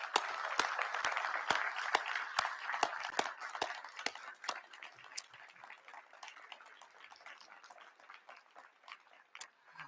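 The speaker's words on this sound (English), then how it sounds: "join me and our faculty in giving them a big round of applause" Applause from a ceremony audience honoring friends and family at a law school hooding ceremony, a dense wash of clapping with sharp individual claps standing out, strongest at first and then slowly thinning.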